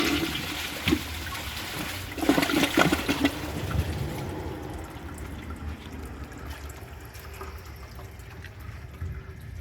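A 2009 Jacuzzi Perfecta toilet flushes, starting with a loud rushing swirl of water that peaks within the first few seconds, then fades into a quieter trickle as the tank refills; no voices.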